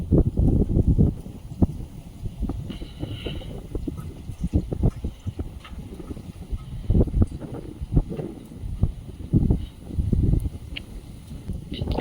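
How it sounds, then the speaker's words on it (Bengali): Strong gusts of wind buffet an outdoor spot where green mangoes are being roasted, arriving as irregular low rumbling bursts that rise and fall throughout, with no voices. "বিশাল হাওয়া"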